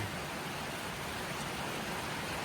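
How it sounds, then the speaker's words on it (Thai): Heavy rain and wind in a storm outside a house, a steady dense hiss of downpour filling the whole stretch with no voices over it. "ทั้งฝนทั้งลมทั้งพายุครับวันนี้"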